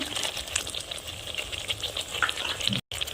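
Onion paste and chopped tomato fry in oil in a pan for Kashmiri aloo dum, with bay leaves, cinnamon and cardamom already tempered in. The sizzle is steady and close, with light stirring scrapes throughout and a brief gap near the end.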